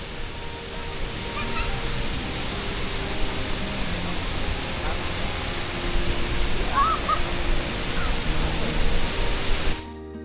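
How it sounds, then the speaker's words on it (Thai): Steady broadband roar of rushing water close by at Mae Tia waterfall in Ob Luang National Park, Chiang Mai, continuous and loud throughout with no clear voices. "นี่ช่วงที่มาใกล้น้ำตก แล้วก็จะเห็นว่า น้ำตกมันเริ่มมา"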